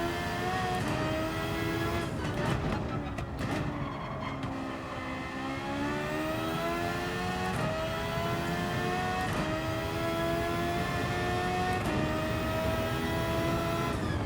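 High-revving V8 race car engine at around 12,000 RPM in a racing video game on Trial Mountain Circuit, a loud, continuous motorcycle-like wail climbing and dropping through gear changes for the whole stretch.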